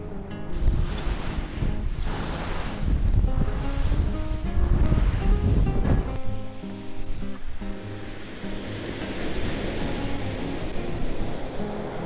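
Sea waves splash against the shore at Etretat, Normandy, with wind blowing in off the water, giving loud churning surges and heavy wind buffeting on the microphone, easing into a steadier wash of surf in the second half.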